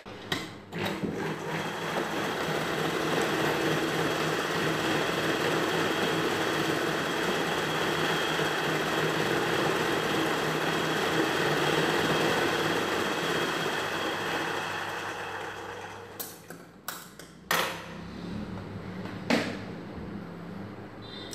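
Sewing machine stitching a princess cut blouse, a steady close motor whir running continuously, then stopping and restarting in a few short bursts with small clicks.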